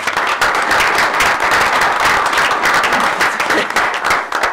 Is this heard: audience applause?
yes